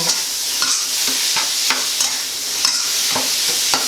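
Minced pork stir-fried in a pan gives a constant bright sizzle, broken by frequent quick scrapes and taps of the spatula at an irregular, brisk rhythm.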